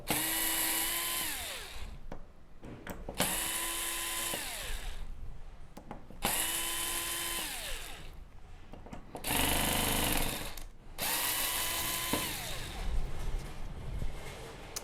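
A power driver backs screws out of the main board of a Samsung UN65JS9000F TV chassis, whirring in four close, repeated bursts with brief pauses and small clicks between them.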